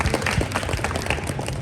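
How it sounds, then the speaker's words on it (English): Applause from diners at a Leland wrestling team's end-of-season dinner, a steady dense clatter of many hands clapping together for nearly two seconds, fairly loud and even with no voices over it. "Give yourselves a round of applause."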